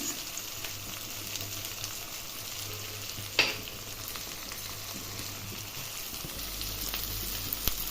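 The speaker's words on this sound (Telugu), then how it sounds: "ఇప్పుడు ఇది బాగా వేగిపోయింది" Egg rice fries in a pan with a constant close sizzle, with light stirring and one sharp clink partway through. A low hum runs underneath and nobody speaks.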